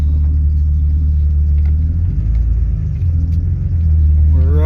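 Steady, loud low rumble of a 2000 Jeep Cherokee engine on the road running on newly replaced fuel injectors, heard from inside the vehicle with no talk.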